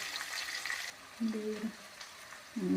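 Garlic and onion fry in a pan with a soft sizzle, broken by short bursts of voiced talk and a few spoon scrapes.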